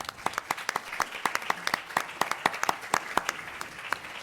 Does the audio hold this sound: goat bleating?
no